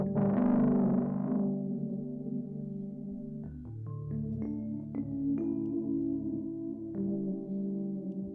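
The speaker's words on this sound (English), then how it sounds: "This panic tremolo is swapping them left and right." Guitar played through a tremolo pedal set to a sine wave, panning the signal left and right: a strummed chord fades, then a series of plucked single notes and harmonics pulse softly with a gentle wavering swell.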